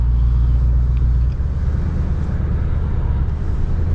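A Mercedes-AMG S 63 with a V8 drives in Sport Plus mode, giving off a deep, steady exhaust rumble heard from inside the car. The drone is loud and even, with a slight dip in the low end partway through.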